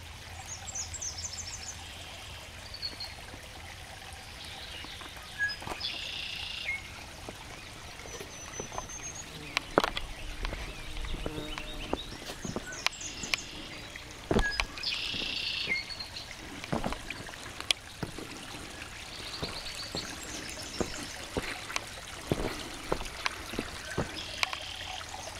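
Silver Creek near Galena, Illinois trickles and babbles softly in the background, with scattered splashes, faint bird chirps, and occasional rustling close by.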